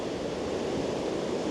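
Ocean waves breaking on the shore make a steady, close, even wash of surf noise with no distinct individual crashes, heard alone.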